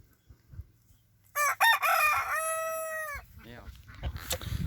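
A rooster kept with ducks, geese and hens gives a single loud, close crow, with a brief cluck before it and quiet farmyard rustling around it.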